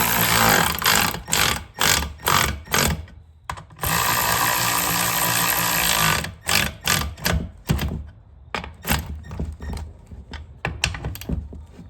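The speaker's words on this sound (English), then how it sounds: "Pick up our handy dandy Milwaukee ratchet, because that's the kind I use in the shop here." A Milwaukee ratchet tightens a part on a Honda Element during a repair, giving loud, close bursts of rapid clicking separated by short pauses, with one longer stretch of steady ratcheting.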